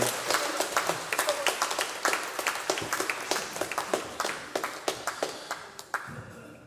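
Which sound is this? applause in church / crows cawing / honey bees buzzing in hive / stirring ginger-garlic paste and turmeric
applause in church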